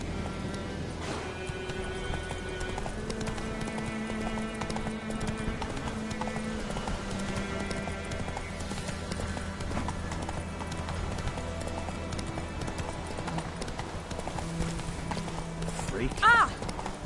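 A horse gallops in The Witcher 3, its continuous hoofbeats running beneath a dense bed of game music and ambience, with a brief louder accent near the end.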